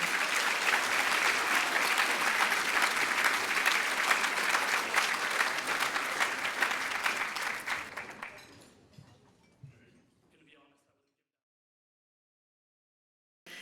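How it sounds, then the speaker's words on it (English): An audience at a cultural diversity awards ceremony claps for the nominees, a long, dense round of applause that holds steady, thins out and fades to silence near the end. "So please give everybody a round of applause who's nominated"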